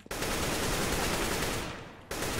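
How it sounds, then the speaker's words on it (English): Desert Eagle pistol fire in a CS:GO competitive match, a dense, loud, continuous burst of gunfire filling nearly the whole stretch, briefly thinning before resuming. "Stop shooting your deagle at me!"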